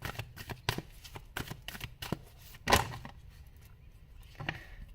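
Tarot cards riffled and shuffled by hand in quick crisp bursts, close and fairly quiet, with one louder flurry partway through and no talking.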